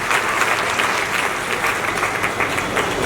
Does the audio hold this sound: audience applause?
yes